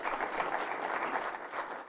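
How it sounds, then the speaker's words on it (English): A conference audience applauds at a cybersecurity event, a dense, steady wash of clapping hands lasting a couple of seconds. "Let's clap again for Phil Niang."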